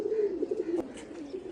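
Pigeons coo softly in a loft, a faint, low, rolling murmur with a brief rustle partway through, fairly close and without any talk.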